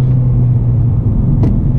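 A manual car idles and rumbles close by as its engine revs drop during a missed rev-match, a steady low drone with no talk.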